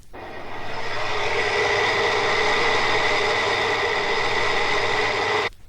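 Industrial gear drive running at 4500 RPM, a steady loud whine with layered tonal hums over a low drone, holding constant before cutting off abruptly at the end.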